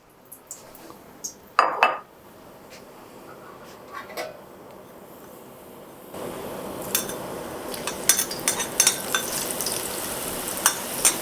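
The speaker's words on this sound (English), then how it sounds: "we're about to start frying up some sweet potatoes" Sweet potatoes dropped into hot oil for gentle frying, with a few clinks of a bowl and utensils first, then a steady sizzling crackle that rises and continues with scattered pops and utensil taps.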